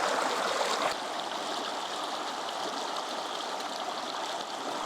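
A flatter stretch of woodland stream flowing steadily, a continuous close rushing and babbling of water with no other sounds over it.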